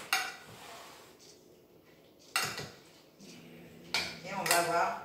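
Lentil salad being mixed in a bowl with utensils, a few distinct clinks and scrapes of metal against the dish in short bursts separated by quieter moments, close and clear with no talk.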